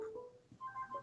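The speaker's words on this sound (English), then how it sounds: "Oh, getting a phone call." An incoming-call ringtone on a phone in a quiet office, a faint electronic melody of short repeating tones that plays on its own.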